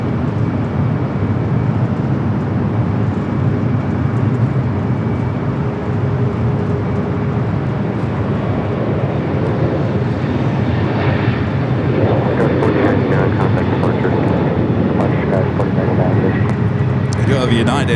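An American Airlines airliner landing on runway 24 right at LAX gives a loud, continuous engine roar that swells toward the end, with people talking over it.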